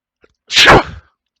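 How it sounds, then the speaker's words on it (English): A single loud sneeze, close and sudden, with silence before and after. "And I'm about to sneeze."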